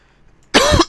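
A single loud, close cough bursts out after a quiet moment, followed by a brief second catch of breath.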